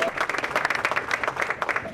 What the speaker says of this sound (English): There was much applause for the mayor following the meeting